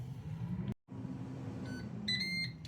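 A short series of high electronic beeps from a Ninja Dual air fryer finishing potato wedges sounds near the end, over a low steady fan hum.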